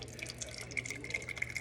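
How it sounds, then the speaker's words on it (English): Sweet potato juices poured over butter in a saucepan, a faint trickling and dripping of liquid with light splashes, close by and without talk. "you're going to take the juices from the sweet potatoes and you're going to pour it in over the butter"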